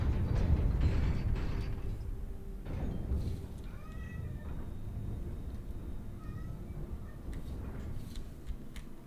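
Cats meowing in the video game Hogwarts Legacy, a few short, clear calls over a busy, steady game backdrop with low rumbling ambience.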